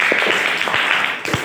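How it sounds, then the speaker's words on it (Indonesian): Students in a classroom clapping together in applause, a brief burst of many hands clapping at close range, steady and dense for a moment. "Oke, tepuk tangan untuk kalian semuanya."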